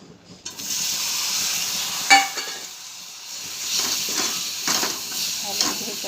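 Chopped ridge gourd frying in oil with chili powder and garam masala, giving a steady bright sizzle and hiss, with a sharper crackle burst as pieces hit the pan and softer stirring swells afterward.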